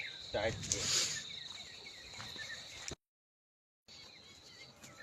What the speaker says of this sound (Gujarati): જો અત્યારમાં મસ્ત પક્ષીનો અવાજ આવે છે.